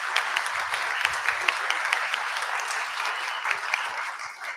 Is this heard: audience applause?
yes